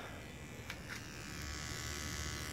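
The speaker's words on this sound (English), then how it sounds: "Maybe you can hear there, the pump it's running." A fuel pump hums on an OS Sirius 7 FR7-420 radial model aircraft engine converted to gasoline with CH Ignitions CDI, giving a steady, fairly quiet electric buzz that holds without a break and swells slightly toward the end.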